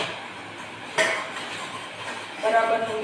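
Crushed almond and cashew powder is mixed into a sweet mixture for palecho balls, with clinking spoon-against-bowl knocks, one sharp clink, and soft scraping, nearby and without speech.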